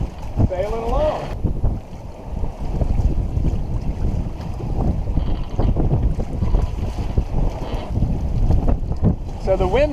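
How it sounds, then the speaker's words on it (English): Strong wind buffets the microphone aboard a sailboat under a single-reefed main and reefed jib in the Exumas, Bahamas, with steady roaring gusts and water rushing past the hull while a voice talks over it at times. "So the wind picked up a little bit more"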